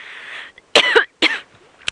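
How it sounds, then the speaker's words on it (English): Two harsh, close coughs in quick succession during an outdoor sunrise safari drive, followed by a short throaty catch, with quiet background before them. "I'm so aggrieved, I've got to cough."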